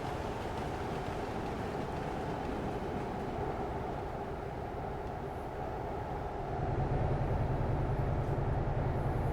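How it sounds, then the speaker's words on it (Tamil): A train rolls past in Euro Truck Simulator 2 with a steady, broad rumble and rattle that swells louder and heavier over the last few seconds. No one speaks. "ஓ ட்ரெயின் பாருங்கள், நம்ம ஊர் ட்ரெயின் மாதிரி இருக்குங்க பார்க்கறதுக்கு"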